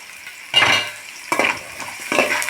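Peeled, chopped garlic fries in a pan for a stingray fish curry, heard as three loud, close bursts of hissing sizzle as it is stirred, with quieter frying between them.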